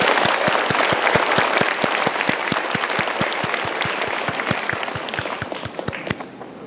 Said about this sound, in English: Let's applause again.